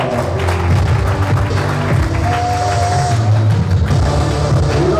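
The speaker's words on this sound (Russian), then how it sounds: "Наши аплодисменты президент Eagle Шамиль Левтанисхана Сафуров" An arena crowd at an Eagle FC mixed martial arts event applauds the promotion's president, broad clapping over booming background music with a strong low beat, loud and continuous.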